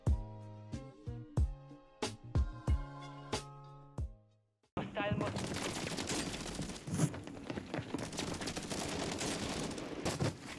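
Razorback gun firing in the shooter game Warzone 3: a handful of sharp, ringing single shots spaced out over a few seconds, then a dense stretch of heavy, continuous gunfire and combat noise.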